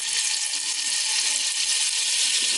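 A knob of butter sizzles in hot caramel in a pan, giving a steady, loud, hissing crackle that holds evenly throughout with no voices.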